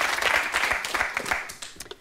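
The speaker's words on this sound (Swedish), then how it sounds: "En applåd." Studio audience applause for a guest on a Swedish televised debate show, a dense wash of many hands clapping at moderate loudness that thins out toward the end.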